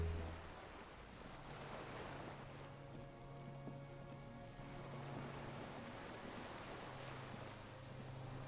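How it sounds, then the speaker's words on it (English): Steady low water ambience with a faint rumble of distant cargo ships and a soft hiss of waves from the Disco Elysium video game, heard alone at a low level. "The distant sound of cargo ships."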